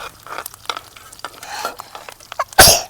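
Curry leaves dropped into hot oil for a tempering of toor dal dumplings, soft scattered crackles and stirring scrapes building to a sudden loud burst of sizzle near the end.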